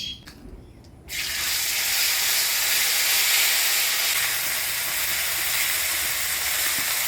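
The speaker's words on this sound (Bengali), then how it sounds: "দিয়ে দিচ্ছি বাটা মশলা" Ground spice paste drops into hot oil tempered with dried chilli, whole cumin and bay leaf, bursting into a sudden loud hiss that holds as a steady, close steamy sizzle, no voices.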